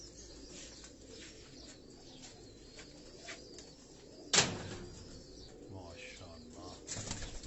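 Pigeons on a Karachi rooftop, with a sudden loud burst of wing flapping midway and soft cooing and chirps around it, fairly close, with a brief spoken word.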